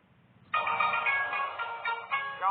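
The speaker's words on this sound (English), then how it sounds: "this sound effect will play as your ringtone" A "your phone ringing" ringtone sound effect bursts in after a half-second of quiet, bright repeating electronic tones playing loudly and alone until the end.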